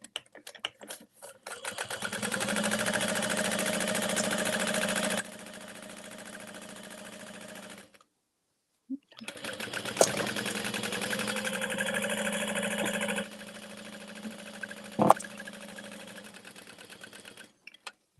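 A sewing machine stitches a tote bag at a long stitch length, running in steady close bursts with a brief pause in between and a few sharp clicks near the end, with no talking.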